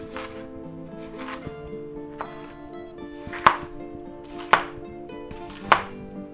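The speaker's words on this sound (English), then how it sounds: "let's go ahead and slice up our nice green bell pepper here" A knife chops a green bell pepper on a cutting board for a Western-style cheese omelet, a few sharp irregular thuds standing out over low background hum, with no voices.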